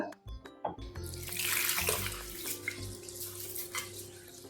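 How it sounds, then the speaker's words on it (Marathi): Basmati rice is being washed under running tap water, a steady rushing stream with faint swishing and dripping, preceded by a few soft clunks of the pot. "तर तांदूळ आपण दोन ते तीन वेळा छान असा स्वच्छ चोळून चोळून धुवून घेतला आहे"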